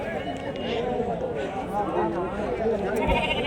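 Sheep and young rams bleat at a busy Angallu livestock market, their calls rising out of steady crowd chatter and people talking throughout.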